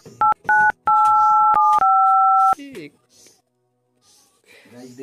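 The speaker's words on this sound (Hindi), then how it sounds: "सबसे पहले इसमें जीरो डायल करेंगे" A mobile phone set up as a home landline gives a run of loud, clean DTMF keypad tones, two short beeps and then longer held tones, followed by brief quieter voices.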